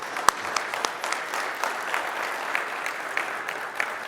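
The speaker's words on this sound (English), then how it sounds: "So I want to ask everybody to give him a huge round of applause." An audience gives a round of applause for a retiring colleague at a talk, steady moderate clapping from a sizable room, with individual claps audible and one sharp close clap near the start.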